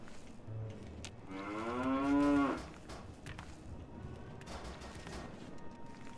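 A single cow moos in a Fallout video game, one drawn-out harmonic call swelling to a peak and then falling away over faint ambient background.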